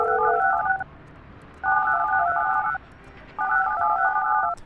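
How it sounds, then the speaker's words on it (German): A telephone rings in the building-management game Project Highrise: three evenly spaced electronic warbling bursts, clear and close, with nothing else over them. "Telefon."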